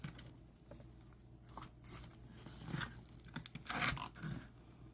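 Packing tape torn and peeled from a box during a toy figure unboxing, with quiet crinkling and ripping bursts that grow louder toward the end, close and alone.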